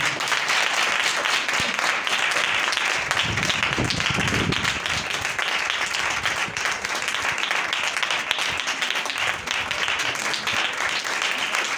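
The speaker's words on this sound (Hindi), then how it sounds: "जोरदार तालियां" Loud, dense applause from a crowd at a church gathering. Many hands clap continuously in a thick, unbroken roar that stays strong throughout.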